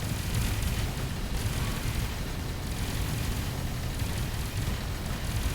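Torpedo blasts rumble through a space battle in Avorion, a dense, continuous roar of explosions with low booming weight and no pauses or voices over it.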